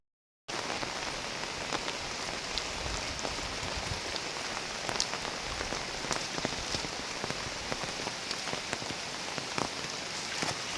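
Steady rain pours onto surfaces outdoors, a dense continuous patter with scattered louder drips close by, no voices.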